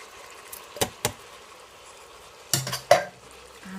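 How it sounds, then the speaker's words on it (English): Stirring chopped tomatoes and a beef oxo cube in an Instant Pot for spaghetti bolognese: a few sharp utensil clinks and scrapes against the pot, sparse and separated, with a quiet kitchen hum between them. "And I'm going to give that a good stir."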